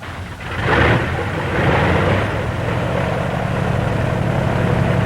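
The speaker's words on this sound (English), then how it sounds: "As soon as the engine starts, the mixture control is moved to automatic rich" A Vought F4U Corsair's engine catches with a sharp cough, then settles into a loud, steady, close roar that keeps droning with a throbbing propeller rumble; no voices.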